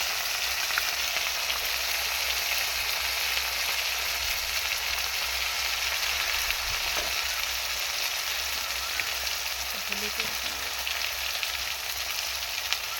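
Black cumin and white mustard seeds fry in hot oil with a dense, continuous, loud sizzle and crackle that lasts throughout, with no talking.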